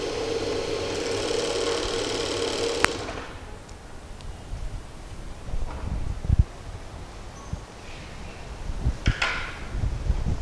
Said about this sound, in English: Overlock the seam allowances together.